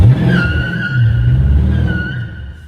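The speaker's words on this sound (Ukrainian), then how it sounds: "Це нам дозволяє трошечки попіщати шинами." Dodge Challenger 6.4 SRT Wide Body with line lock engaged, front brakes holding as the rear tires spin and squeal against the pavement. Loud, sustained screech over a deep rumbling engine throughout, close by and continuous with no talk.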